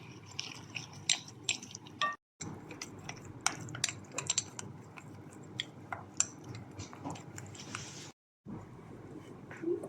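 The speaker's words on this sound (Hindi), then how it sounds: "इन मसालों को अच्छी तरह से मिक्स कर लेंगे" Spoon stirring spices and ginger-garlic paste into yogurt in a bowl, faint irregular clinks and soft wet scraping, quiet and close, broken by two brief silences.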